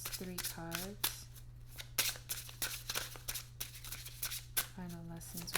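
Tarot cards being shuffled and drawn, with crisp flicks and riffling snaps in short bursts between bits of talking, over a steady low hum.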